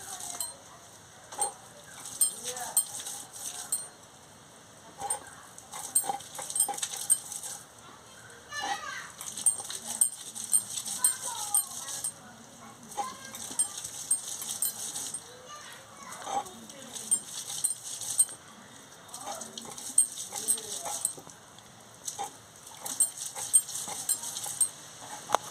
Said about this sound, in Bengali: আমি এইভাবে সোয়াবিনটাকে বেটে নিচ্ছি